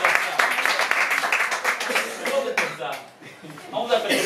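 A gathering of students and staff at a course-materials handover ceremony claps together, with dense, fairly close applause filling the first half before thinning out as voices carry on underneath.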